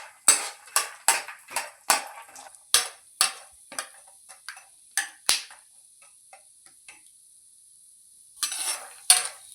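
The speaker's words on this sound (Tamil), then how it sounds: "இன்றைக்கி நான் பாதாம் பருப்பு போட்டு வறுத்து எடுத்துக்கிறேன்." Almonds roasting in ghee in a pan, heard as a fast series of sharp metallic clinks and scrapes from a spoon against the pan, close up, pausing briefly and then resuming, with no talking.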